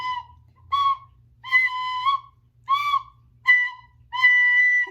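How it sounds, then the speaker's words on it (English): A tin whistle plays six separate phrases in a classroom lesson on dynamics, each a clear, bright held note or short run with brief silences between them. "the main point of the tin whistle time today was to learn dynamics"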